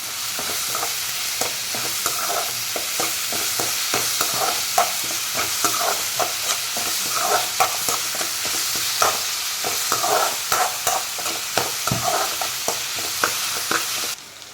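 Chicken 65 stir-fries in a pan with chopped tomato and green chilies, a steady sizzle under repeated scraping and stirring strokes, close and continuous, with no talk.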